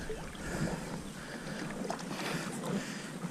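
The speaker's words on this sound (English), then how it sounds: "I'm going to paddle on out in here, probably about the middle of the lake" Steady water swish and wind rush while a kayak paddles out across a lake toward the middle, close and continuous with no talk.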